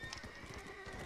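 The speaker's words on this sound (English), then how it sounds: "There's actually one last horse ride that I'm doing right now in the game." A horse galloping in the video game Red Dead Redemption: Undead Nightmare, with quick, faint hoofbeats under a dense layer of game music and ambience.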